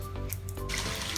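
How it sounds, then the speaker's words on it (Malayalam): Water pours into a cooking pot being readied for boiling for Thalassery chicken dum biryani rice, a soft trickle building into a steady, close rushing splash; no one speaks. "എന്നിട്ട് വെള്ളം തിളപ്പിക്കാൻ വെക്കുക."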